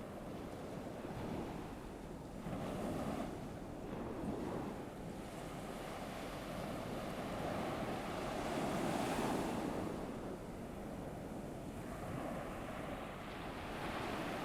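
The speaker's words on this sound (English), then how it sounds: "Focus on the waves crashing into the shore." Ocean waves surge and crash steadily on a shore, a dense continuous wash of surf with gusty wind noise on the microphone and no voices.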